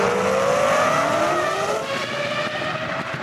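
A Formula 1 car spins after contact with David Coulthard's car, its loud, close engine whining in pitch-sliding tones over a continuous tire roar, without any voices.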